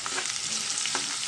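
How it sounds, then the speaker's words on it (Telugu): Green chillies fry with onions in a pan, making a soft continuous sizzle with a couple of brief crackles, close and fairly quiet. "ఇప్పుడు మనం ఉల్లిపాయల్లోనూ పచ్చిమిరపకాయలు వేసుకుందాం. ఇవి కూడా బాగా ఫ్రై అవ్వాలండి."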